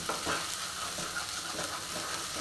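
Masala frying in a kadai for a creamy paneer masala, a soft, continuous sizzle with faint stirring scrapes, fairly quiet and steady with no talk.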